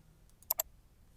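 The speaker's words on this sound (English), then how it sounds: "you can accept this recommendation by clicking the Accept Recommendations button" Mouse clicks on an on-screen button, a couple of quick, faint, close clicks in near silence.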